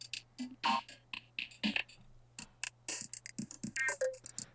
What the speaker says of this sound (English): next up, also from the Korg Wave Station, this is the Voco de Drum Performance